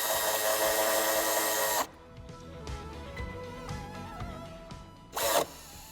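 Power drill tightening a screw inside a 2019 BMW 4 Series G22 coupé, with a loud whirring burst, then softer clicks and handling noises, then a second short whir near the end.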